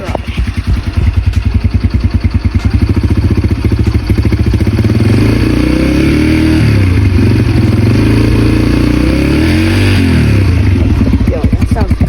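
A 2022 Yamaha TTR 125 dirt bike engine runs up close with a rapid, clattery single-cylinder pulse, then revs up and back down several times, loud throughout.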